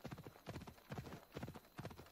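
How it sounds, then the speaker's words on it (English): Horse hooves clip-clop at a steady galloping rhythm in the video game Assassin's Creed Odyssey, faint but clear, with repeated beats of grouped hoof strikes and no talk. "We should probably call for a horse."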